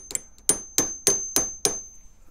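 Steel chasing hammer striking metal while setting a bezel around a cabochon: five sharp, evenly spaced ringing blows with a sustained high metallic ring between them, close and loud, no talk.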